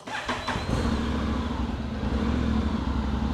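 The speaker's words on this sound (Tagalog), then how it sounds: "sound check na rin natin yung 270 degrees crank" Motorcycle with a 270-degree crank idling through its stock exhaust: a close, steady, throbbing engine drone after a few sharp mechanical clicks at the start, with no talk.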